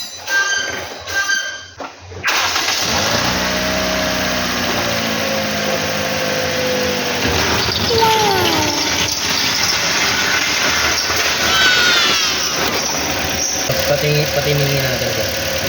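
A Toyota Altis engine with a timing chain tensioner rattle cranks and catches about two seconds in, then settles into a steady, fairly loud idle while people talk over it.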